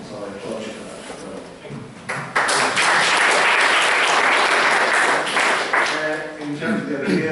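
An audience at a startup pitch event breaks into loud, sustained applause after a stretch of talking, with dense clapping that continues and then begins to thin out near the end.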